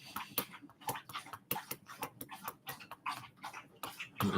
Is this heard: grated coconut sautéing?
no